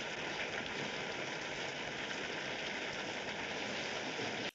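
Steady rain in a scene from the 1957 film 12 Angry Men, a dense even hiss of falling water filling the whole stretch without a break and cutting off abruptly at the end.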